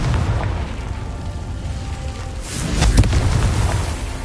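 In the Hogwarts Legacy video game, the Confringo fire spell goes off with a booming explosion. A dense, loud rumble holds throughout and swells into a stronger blast partway through, with no speech over it.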